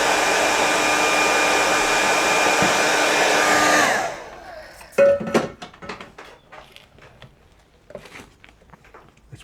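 A hair dryer blows in a loud, steady whoosh for about four seconds while drying a watercolour painting, then switches off and leaves a few soft clinks and brush taps.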